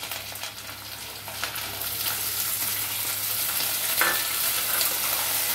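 Potatoes and green peas with browned onion frying in a pan as they are stirred: a constant close sizzle with scraping and a few faint clinks, with no voices.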